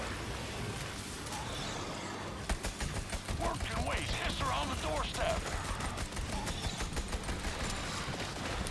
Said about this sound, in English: it's like a cryo gun